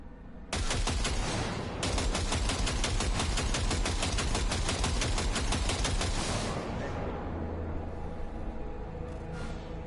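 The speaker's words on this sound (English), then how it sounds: "Fire a short burst into it." Rapid automatic gunfire from a weapon in Cyberpunk 2077, a loud, close, sustained rattling burst of shots that briefly pauses, then runs on for several seconds before trailing off into quieter background.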